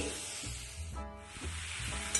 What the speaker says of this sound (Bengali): কড়াতে পেঁয়াজ হচ্ছে ছোট ছোট করে পেঁয়াজ কেটে দিয়েছি